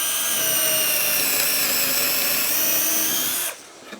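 A Festool cordless drill driver boring through a block of tulip wood, a loud steady high motor whine with tonal harmonics running for about three and a half seconds before cutting off abruptly.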